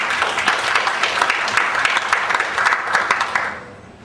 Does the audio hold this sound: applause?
yes